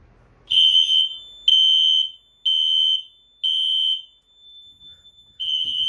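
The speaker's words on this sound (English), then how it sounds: "let's pull the fire alarm." A building fire alarm set off from a pull station blares in loud, evenly spaced high-pitched tones, five long blasts separated by brief gaps, with a faint strobe sync tick audible between them.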